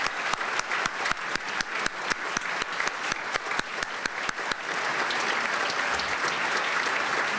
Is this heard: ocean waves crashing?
no